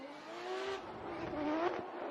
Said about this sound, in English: listen to the exhaust note